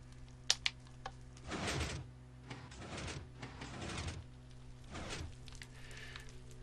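Minecraft Bedrock redstone pistons opening a mob face door on Xbox One, giving several sliding, scraping mechanical bursts in quick succession after a couple of sharp clicks, moderately loud with no talk.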